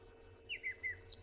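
A single robin gives a short, quiet run of varied chirps and whistled notes mimicking other birds, rising at the end, over faint background hiss, at sunrise.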